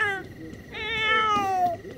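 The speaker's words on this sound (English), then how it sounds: "I gotta see what's wrong with the cat." A cat in The Sims 4 meows in long, drawn-out, wavering cries that overlap near the start, loud and close, with background game sounds and no clear talking.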